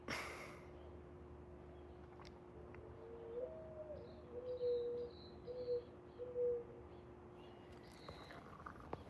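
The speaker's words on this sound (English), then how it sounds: "Oh yeah, listen to those birds." Several birds call outdoors in an evening setting, short whistled and cooing phrases repeating faintly over a steady low hum and background noise, with no talk over them.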